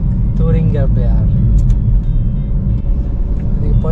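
A car climbs a mountain road at about 1450 metres, with a steady close engine and road rumble inside the vehicle while people talk over it.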